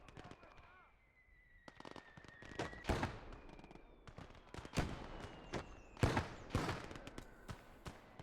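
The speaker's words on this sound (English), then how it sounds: "now we can hear a mortar firing as well" Mortar and battle explosions echo from mid-distance in the Gates of Hell WWII strategy game, a series of sharp booms at irregular intervals, with a person talking over the fighting.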